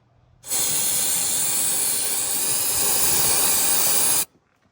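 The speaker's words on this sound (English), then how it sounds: "Now I'm going to spray this down with brake clean to get any spilled oil cleared out of here." A single continuous spray of brake cleaner aerosol, cleaning spilled oil from a Polaris Xpedition, hisses loudly for about four seconds, starting and stopping abruptly.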